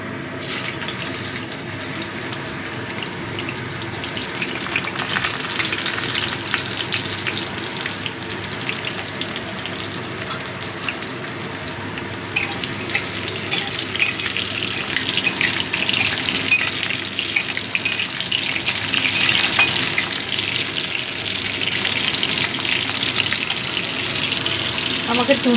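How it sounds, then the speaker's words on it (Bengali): Slices of bitter gourd (uchhe) fry in hot oil, giving a steady, busy sizzle that runs without a break and grows slightly louder toward the end, with faint background sounds mixed in. "উচ্ছেটা আগে ভেজে নিচ্ছি।"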